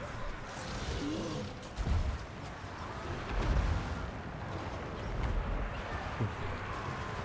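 Dense, continuous rattling fire from Skaven Ratling Gunners in Total War: Warhammer II, a rumbling battle wash with occasional heavier thuds, steady and moderately distant.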